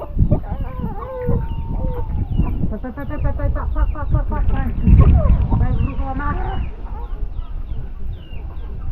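Several chickens cluck and call in overlapping bursts close by in a hill village in Thanchi, Bandarban, alongside voices talking throughout.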